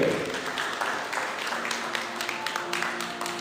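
Steady applause from the crowd at a school ceremony for the start of the school year, dense and continuous at moderate distance, with no talk over it.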